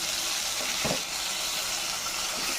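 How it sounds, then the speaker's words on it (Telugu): Chopped tomatoes added to onions and curry leaves frying in a pan, giving a continuous loud sizzle with a short burst of extra crackle as they go in. "పైన ఉల్లిపాయలు ఇప్పుడు టమాటా వేసేసుకుంటున్నాం"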